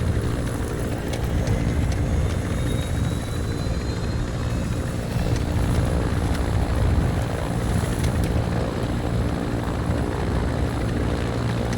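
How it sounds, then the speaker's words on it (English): A helicopter hovers during an exfil in the DMZ video game, its rotor thrumming as a loud, steady, unbroken drone that fills the scene without any talk. "I'm on the chopper."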